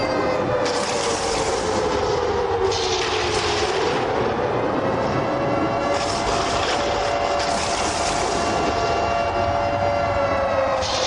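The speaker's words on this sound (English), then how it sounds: "Let me hear the siren" A stadium siren wails during a USFA football game between the Dallas Dragons and Pittsburgh Roughnecks after a touchdown, a sustained loud rising and falling tone over constant crowd roar, with bursts of broadband noise coming and going.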